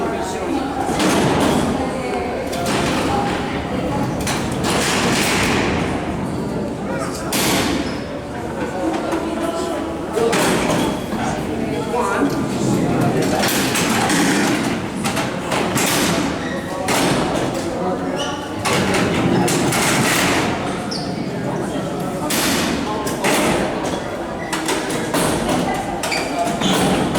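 Rows of prison cell doors at Alcatraz sliding open and shut on their tracks, with repeated heavy thuds and clanks over a busy, crowded background where people talk throughout.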